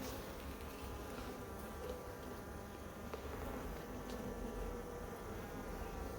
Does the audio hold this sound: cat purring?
no